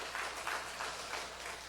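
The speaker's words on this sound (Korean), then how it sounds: "우리 환영의 박수, 축복의 박수 한번 그분들에게 한번 해주시기 바랍니다." A church congregation claps in welcome during a Sunday service, a moderate, fairly even patter of many hands, slightly distant with a low room hum underneath.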